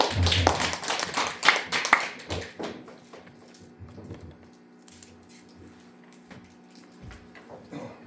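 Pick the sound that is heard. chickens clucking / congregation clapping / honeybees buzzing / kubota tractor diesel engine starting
congregation clapping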